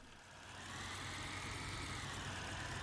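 A car engine in a Roblox driving game idles steadily, a low continuous hum that rises slightly after the first second and then holds even.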